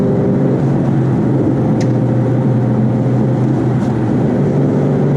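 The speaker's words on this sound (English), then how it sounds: "We're gonna do lots of just downshifting like that, no rev matching" A 2013 Mustang GT 5.0 with a twin-disc clutch downshifting without rev matching, its engine a loud, steady low drone throughout with two brief higher blips and no voices.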